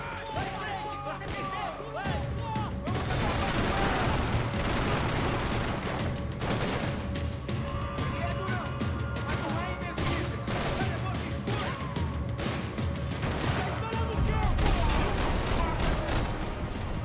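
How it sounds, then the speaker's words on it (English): Sustained gunfire in the video game Max Payne 3: dense, continuous volleys of loud cracking shots and clattering impacts throughout, with voices mixed in. "I know you are fucking shooting."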